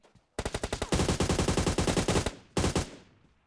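Automatic gunfire from behind the player in PUBG Mobile: a rapid burst of loud, close shots, then a longer sustained volley, a short pause and one more brief burst, with no talking.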